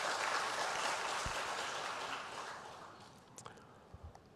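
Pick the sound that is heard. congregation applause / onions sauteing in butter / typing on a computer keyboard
congregation applause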